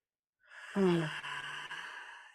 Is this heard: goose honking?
no